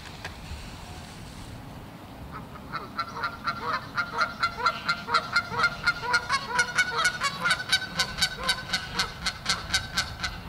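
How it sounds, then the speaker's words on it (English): Geese honk repeatedly outdoors during a mating display, a rapid, rhythmic series of loud nasal calls that build after a quieter windy start and continue steadily to the end. "Doing the mating. Some geese."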